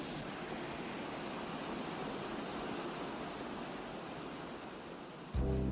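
Crayfish Waterfall in Guadeloupe, its abundant water falling in a steady, dense rush that stays constant throughout, with a brief louder shift right at the end.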